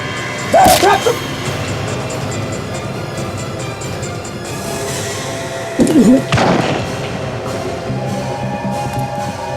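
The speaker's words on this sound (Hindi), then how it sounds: "माया, सोचो मत, गोली चलाओ।" Two sharp, loud gunshots several seconds apart ring out over a low background rumble.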